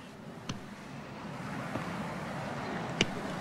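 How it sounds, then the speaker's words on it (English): Steady wind rushing and buffeting the microphone at the seaside, a soft broadband roar throughout, with a couple of faint knocks and no talking. "The wind's going."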